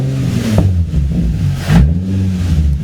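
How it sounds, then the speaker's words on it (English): A car engine with aftermarket modifications revved twice at idle, each rev a short rising surge close by over a steady low idle hum, with no voices. "Just give her a couple of revs to try and upset her"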